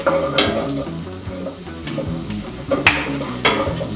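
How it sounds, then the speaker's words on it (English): Whisk stirring flour into melted butter in a pan over medium heat, a soft sizzle under repeated close scraping and clicking strokes against the metal. "So now I'll take my whisk and whisk it up."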